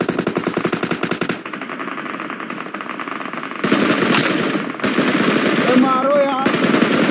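Rapid automatic gunfire from the video game PUBG fills the clip, a steady rattling stream of shots that shifts to louder, denser bursts partway through, with faint voices under it.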